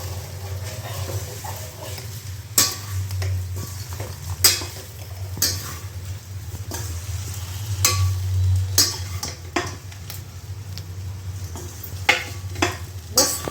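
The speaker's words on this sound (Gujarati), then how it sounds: "અહીંયા ઉકળે છે આપણી ચા." Tea boils in a pot on the stove, giving a steady low bubbling rumble under a soft hiss. Scattered sharp clinks and taps come close by, and there is no talking.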